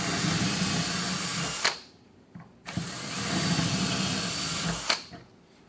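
A power drill bores holes for a hinge in a cabinet door, whining in two loud bursts separated by a short pause, each ending abruptly.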